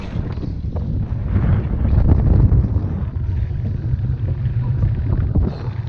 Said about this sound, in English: Got a heck of a breeze coming through here